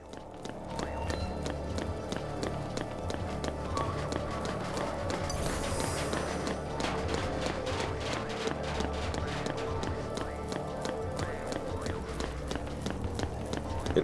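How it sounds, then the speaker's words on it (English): Footsteps in Final Fantasy XIII repeat as the same two short clopping effects. A steady, rapid train of hollow clops runs the whole length over a continuous game backdrop. "This is your fresh reminder that the footstep clops have not gone away."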